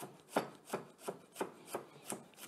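A knife chops fresh squash into a fine dice on a board, seven crisp, evenly spaced strokes, close and fairly quiet, with no talking.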